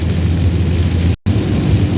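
Heavy rain drums steadily on a car during a drive toward Abbottabad, a loud, dense wash of noise that runs throughout and cuts out briefly partway.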